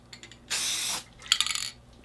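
Grease Police cleaner sprayed onto a tile, one long hissing spray burst followed by a shorter, sputtering second squirt, close and fairly loud.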